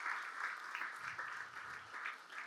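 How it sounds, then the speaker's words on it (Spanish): A church congregation claps faintly to welcome first-time visitors, a soft, even patter of applause heard at a distance for a couple of seconds. "¿Le damos un aplauso a los que por primera vez están?"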